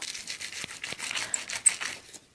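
A small brush scrubs over paper craft pieces for a pastel mini album, giving close, soft, repeated rasping strokes that fade out at the end, with no talking.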